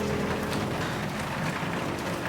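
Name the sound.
pouring rain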